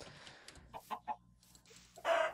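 Chicken in the video game Minecraft clucks in a few short soft bursts, then gives a louder, brighter call near the end, with faint game background noise.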